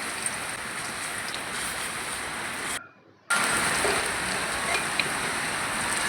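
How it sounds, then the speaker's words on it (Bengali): Pumpkin flower fritters fry in hot oil in a wok over a wood-fired stove, a loud, continuous close sizzle that cuts out briefly to near silence before resuming at full strength. "কড়ার তেল গরম হয়ে গেলে বড়াগুলো একটা একটা করে ছেড়ে দেবো।"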